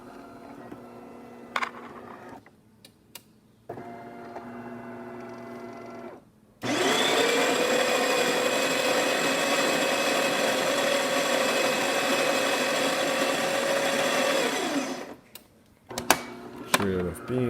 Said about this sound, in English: Today we're testing this DeLonghi Magnifica espresso machine, and let's go ahead and make a shot.